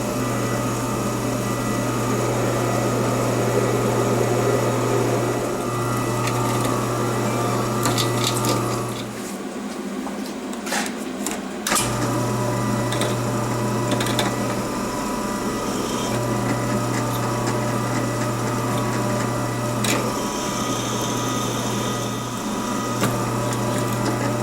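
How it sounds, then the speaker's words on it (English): Power drill boring a hole in a metal piece for a surface gauge project, a steady loud motor whine that stops briefly midway and then resumes, close by. "I'm going to punch, make a mark here with my punch, and then I'm going to drill a hole"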